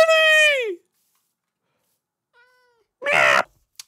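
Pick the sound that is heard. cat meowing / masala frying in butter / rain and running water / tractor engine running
cat meowing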